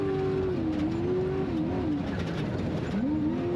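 A Class 1 off-road race car at the Baja 400 qualifier revs hard, its engine pitch rising and dipping in sweeping surges, loud and close with no talk over it.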